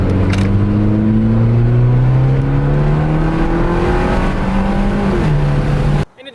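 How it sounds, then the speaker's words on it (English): A Fiat 500 Abarth engine revs hard and climbs steadily in pitch, its raspy exhaust note loud and close for about six seconds before cutting off abruptly. "really, really beautiful, just fantastic exhaust note"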